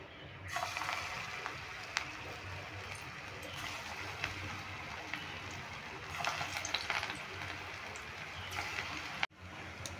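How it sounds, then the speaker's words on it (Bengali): Raw banana fritter balls fry in hot oil over medium heat, a steady close sizzle and crackle lasting throughout, with occasional stirring taps and a brief break near the end. "এবার আমি এই বলগুলো তেলে ছেড়ে দেব"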